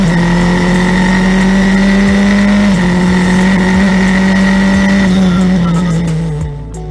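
Formula 4 single-seaters roar at high revs as they restart during a night street race, a sustained loud engine note with gear shifts and other cars passing, fading slightly at the end.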